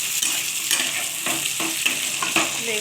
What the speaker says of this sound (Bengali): তো এই ভাজার সঙ্গে আমি এবার একটু এই বেগুনটা দিয়ে দিচ্ছি